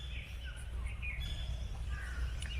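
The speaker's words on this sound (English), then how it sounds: "Can you hear these birds chirp?" Birds chirping in woodland at sunrise, scattered tweets and calls over a steady low outdoor rumble, moderately distant and without talk.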